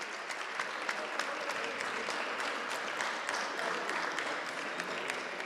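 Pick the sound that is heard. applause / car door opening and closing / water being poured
applause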